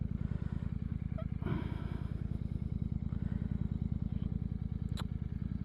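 A Royal Enfield Super Meteor 650 motorcycle idles with a steady, even low thump from its engine, close by, with a few faint clicks and taps over the top.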